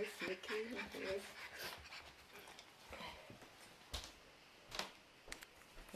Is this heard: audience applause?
no